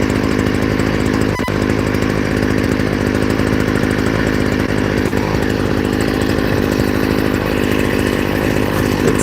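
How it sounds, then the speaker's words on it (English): A two-stroke chainsaw runs loud and steady at close range while cutting a tree, its engine drone holding at high revs throughout with no pauses or talk. "Love the sound of two-stroke engine."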